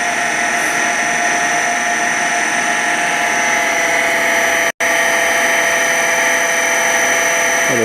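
Eldorado M75-15 twin spindle gun drill running through a deep hole, a loud steady industrial whine with sustained tonal hum, broken by one brief dropout midway.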